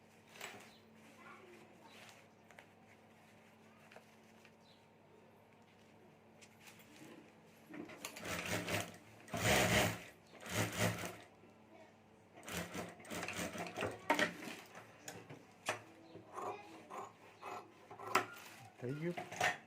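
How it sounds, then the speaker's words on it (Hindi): A sewing machine stitching the side seam of a homemade fabric mobile cover and sling bag, starting with faint handling and rustling, then bursts of loud, fast, rattling stitching with short pauses between runs. "यहाँ दूसरी साइड भी हमें सिलाई करके यहाँ पैक कर देना है"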